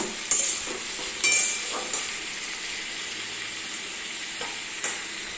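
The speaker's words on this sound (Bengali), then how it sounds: "এদিকে আমি আলু ভাজার আলু চাপিয়ে দিয়েছি" Potatoes frying in a pan give a steady, moderate sizzle with a few sharp clinks and scrapes early on, then a quieter continuous hiss.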